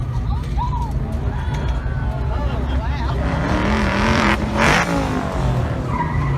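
Cars rumble and rev at the Hot Rod Power Tour autocross course, with tires squealing and skidding nearby. The engine roar is loud and continuous, and people talk over it.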